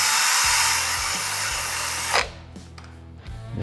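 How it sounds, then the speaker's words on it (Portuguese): An electric drill spins at high speed, boring into PLA plastic with a loud, close whine and rough grinding, then stops abruptly after about two seconds, leaving a faint motor hum and small clicks. "nossa furadeira está aqui, tá? Vou fazer ele aqui pra gente poder ver."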